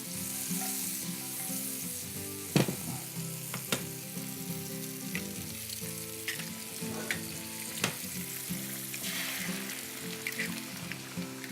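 Two eggs frying in a pan on a kitchen stove, a continuous crackling sizzle with scattered sharper pops and occasional scrapes, close and steady, with no one speaking.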